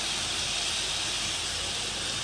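Mutton masala with tomato, ginger-garlic paste, pepper powder, garam masala and chilli powder simmers in a pot, giving a steady, loud, unbroken hiss with no talking.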